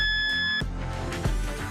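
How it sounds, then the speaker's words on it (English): A motorized Roman shade's motor gives one long electronic beep during remote pairing, a steady tone held for about half a second and then cut off by clunking handling noise. "release button and long beep once"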